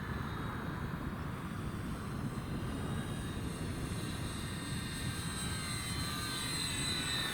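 An Arrows Hobby F8F Bearcat, an 1100mm PNP RC US naval fighter model, flies with a steady, even motor drone that holds throughout at moderate loudness. No one talks.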